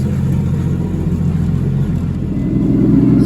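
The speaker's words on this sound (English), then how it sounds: "Go ahead and give her some revs." A Mazda Miata fitted with a Toyota 2JZ engine runs close by with a steady, loud, deep rumble, holding a rough rev for a few seconds and swelling slightly at the end.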